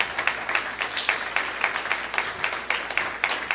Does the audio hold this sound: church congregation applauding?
yes